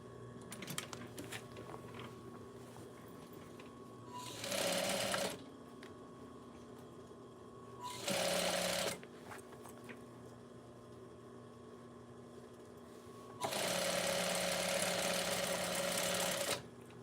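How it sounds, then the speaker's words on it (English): Sewing machine running a straight stitch around a baby blanket in three short bursts of rapid whirring, separated by quiet pauses, close and fairly faint. "I'm just doing a straight stitch all the way around, and then we're going to be done."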